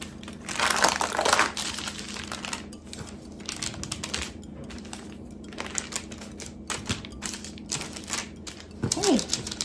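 A knife or cutter slices through sourdough cheese cracker dough on a kitchen surface, giving soft crinkly scraping strokes in a loose rhythm, faint and close, with a brief voice partway through.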